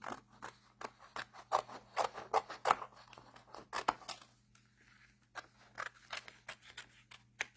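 Scissors trimming paper for a Stampin' Up country birdhouse treat box: close, crisp snips in quick irregular bursts, a short pause, then a few more cuts, with no voices.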